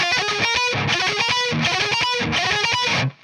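Distorted electric guitar plays fast alternate-picked sixteenth-note runs in a dense, continuous stream of driven notes, loud and steady before cutting off near the end, with no talking over it.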